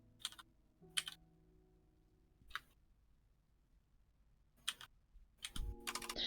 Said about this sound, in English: I'm just hearing careful typing